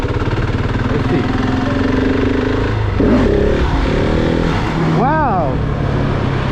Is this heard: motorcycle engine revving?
yes